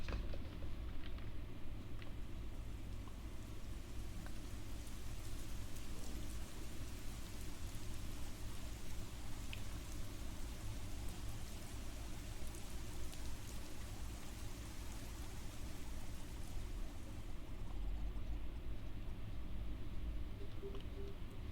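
Steady rain pours in the Storm Grill video game, a dense, continuous hiss of falling water with a low rumbling bed beneath, even and unbroken for the whole stretch at moderate loudness.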